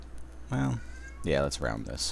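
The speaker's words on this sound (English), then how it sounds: "I apologize if you can hear my cat in the background." A house cat meows a few times, faint and brief, in the background behind a person talking close to the microphone.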